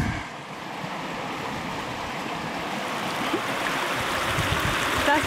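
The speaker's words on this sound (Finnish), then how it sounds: "Niin tää joki on vahva, joo." A strong wilderness river rushes steadily in a Finnish fell landscape, a constant broadband roar of flowing water heard close by, with light wind noise and no talking.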